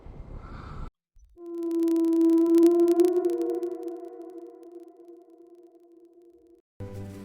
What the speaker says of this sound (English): The whale sings in the ocean.